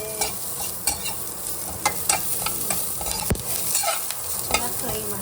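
Mushrooms being stir-fried in a pan for a pepper dry dish: a steady sizzle under repeated scraping and stirring strokes from a spatula, close and fairly loud, with no one talking.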